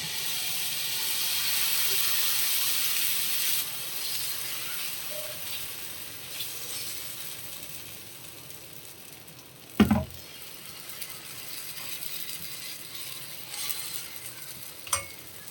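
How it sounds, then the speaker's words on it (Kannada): Rava and cucumber dosa batter hitting a hot oiled pan, a steady close hiss and sizzle that eases after a few seconds, with a sharp clatter near the middle and a small knock at the end. "ಈಗ ನೋಡಿ, ದೋಸೆ ಹಾಕ್ತಾ ಇದ್ದೇನೆ."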